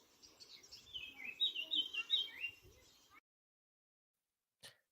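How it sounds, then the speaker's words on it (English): Birds sing outdoors in a quiet rural spot in Portugal, faint high chirps and trills over a soft background for about three seconds, then near silence broken by one brief sound. "So I will just shut up for a bit so you can hear the birds singing here."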